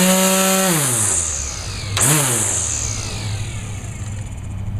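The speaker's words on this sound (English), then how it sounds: "Let's turn her on and see how she sounds." An electric lawn edger runs with a steady, loud motor whine. Its pitch drops, jumps briefly, then settles into a constant buzz.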